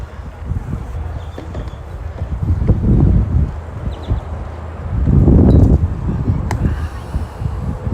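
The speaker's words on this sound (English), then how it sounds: "Good wind coming in." Wind buffets the microphone at an outdoor high school baseball game, rising in two loud, rumbling gusts over a steady background of field noise.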